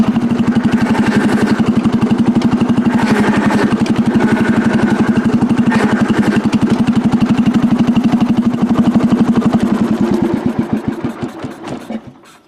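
A 1975 John Deere 300 tractor engine running close and loud at a steady rhythmic idle, then shutting down and sputtering to a stop at the end.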